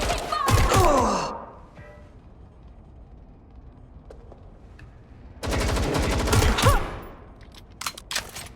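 Gunfire from the video game Watch Dogs Legion comes in two loud rapid bursts, one at the start and another longer volley later, separated by a quieter stretch.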